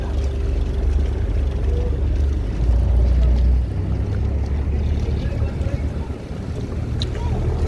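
Wooden ferry boat crossing Lake Toba to Samosir island, a steady low engine rumble with wind and water wash running throughout, loud and continuous.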